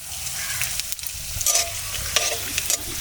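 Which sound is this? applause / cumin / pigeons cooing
cumin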